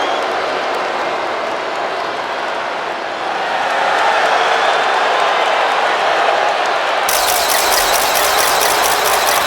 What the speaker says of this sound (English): Tiffany Stratton getting a warm welcome from this home crowd.